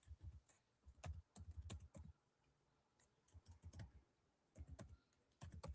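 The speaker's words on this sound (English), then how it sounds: "My typing skills are terrible right now." Someone typing on a computer keyboard in bursts of rapid key clicks separated by short pauses, close but fairly quiet, with no talking.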